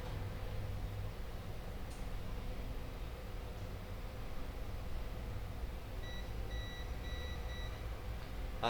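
Repeated short electronic beeps from a multimeter in continuity mode probing short-circuited components on a circuit board, a thin rhythmic series of bleeps in a steady run over a constant low hum.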